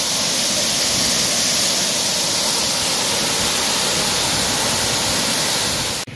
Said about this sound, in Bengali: এইটা হচ্ছে বড়া ঘাগড়া ওয়াটারফলস